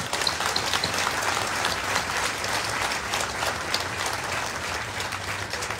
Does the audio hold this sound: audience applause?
yes